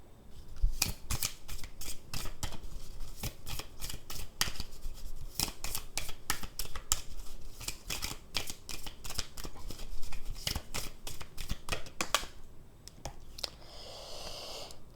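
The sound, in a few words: shuffling and drawing fortune-telling cards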